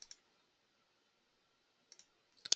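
A computer mouse clicks during work in AutoTURN Pro drafting software: two quick clicks at the start, a pair after a pause, then a louder double click at the end, crisp and close.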